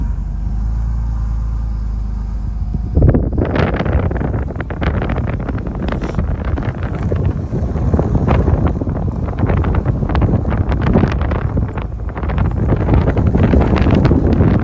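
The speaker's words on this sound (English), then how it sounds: "Windy this morning." Strong gusty wind buffets the microphone, a loud continuous roar with low rumbling surges, and no one speaks.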